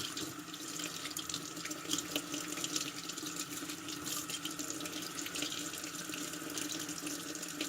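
Steady running water from a tap flows over the parts of a Remington 1858 revolver, rinsing powder residue out of the cracks and the spring. The rush is continuous and close, with no talk.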